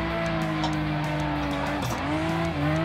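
A Toyota Cresta JZX100 drifting on a circuit: a loud, sustained engine drone with shifting pitch beneath a continuous squeal of tyres sliding sideways, close and unbroken.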